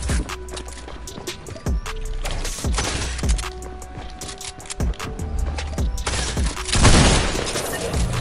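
Rapid gunfire in Fortnite, with dense bursts of sharp shots and clattering impacts, some tonal weapon and effect sounds, and a louder stretch of shots near the end, all loud and close.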